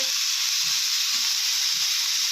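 Vegetables with turmeric, coriander-cumin powder and red chilli powder for a millet khichdi fry in a pan, giving off a steady, loud sizzle with faint stirring knocks underneath.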